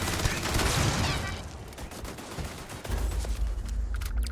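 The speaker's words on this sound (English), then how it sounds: "These stupid little machine gun turrets." Machine gun turrets fire in the video game Starfield, a dense, loud burst of rapid gunfire that eases off midway, then returns with heavy low rumble near the end.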